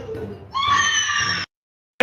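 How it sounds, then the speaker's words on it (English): A woman in a played video lets out a shrill, sustained scream lasting about a second. It starts abruptly after muffled sound and cuts off sharply, followed by silence and a brief burst of noise. "Listen to the scream."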